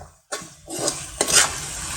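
Chopped amaranth leaves fry in hot oil in a pan, a ladle scraping and stirring in a few quick strokes over a soft sizzle, close and without talk.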